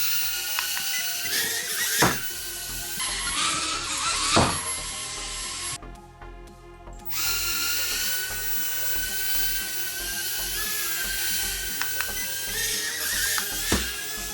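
The tiny motors of a JJRC H36 mini drone whine at close range in a high buzzing drone that surges and dips as it performs a 360 flip, with sharp thumps and a brief cutout partway through.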